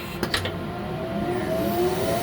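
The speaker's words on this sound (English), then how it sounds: "You should hear the vacuum turn on here." A few quick clicks, then the vacuum motor of a DEK Horizon 01iX screen printer whirs up and a rising whine builds steadily, close and moderately loud.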